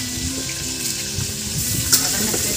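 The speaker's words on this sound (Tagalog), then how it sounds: "Para nagpiprito." Steady crackling sizzle of fish frying in hot oil, continuous and fairly close, with faint clinks from a pan.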